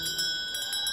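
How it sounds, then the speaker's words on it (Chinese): A wind chime rings softly in a few light, clear metallic strikes spread across a brief moment, with no one speaking. "恁看，迄、那个风铃在响呢。"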